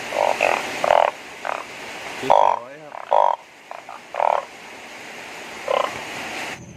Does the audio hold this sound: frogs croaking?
yes